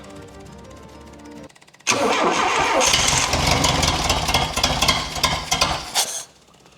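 A home-built Don Fruth Road Dodge engine cranks and catches, then runs at a loud, steady, rough roar for about four seconds before cutting off abruptly, preceded by a quieter low hum.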